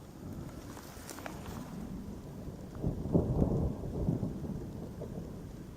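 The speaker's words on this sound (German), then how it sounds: "Did you hear that thunder?" A low rumble of thunder rolls in and swells around the middle of the clip, with steady rain hissing throughout.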